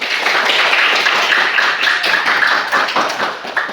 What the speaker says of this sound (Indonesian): Tepuk tangan untuk kalian semua.